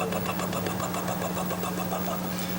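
A voice at a drum clinic imitates a car engine with its cylinders firing in sync, a continuous buzzing rumble with a fast, even pulsing beat, close and steady throughout.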